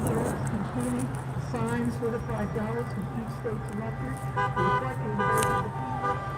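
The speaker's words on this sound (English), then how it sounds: "Let's lead a little toot symphony. Little horn symphony here." Several car horns toot in a loose, overlapping series from vehicles near big trucks, some short and some held, with someone talking over them throughout.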